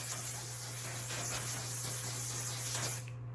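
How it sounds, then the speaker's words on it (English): One Size On Till Dawn mattifying setting spray misted close onto a face gives a steady, continuous hiss lasting about three seconds before cutting off, with a low electrical hum beneath. "Now I'm going to set my face with the One Size On Till Dawn mattifying setting spray"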